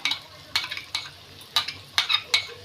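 Ginger, garlic and chilli pastes being stirred into frying onions and tomato for an egg curry, with a steady sizzle broken by repeated sharp scraping strokes of a spoon against the pan, close and fairly loud.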